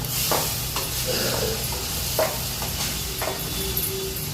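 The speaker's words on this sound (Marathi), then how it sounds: "सगळं असं भाजून घ्यायचं तेलात." Tomato mixture roasting in oil, a continuous close sizzle broken by a few brief spoon scrapes and stirs against the pan.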